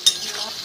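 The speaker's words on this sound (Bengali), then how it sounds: "আলুগুলো দিয়ে একটু কষিয়ে নিচ্ছি মশলার সাথে" Potatoes being stir-fried with masala in hot oil, a short burst of close sizzling with a brief scrape of stirring at the start, then steady frying hiss.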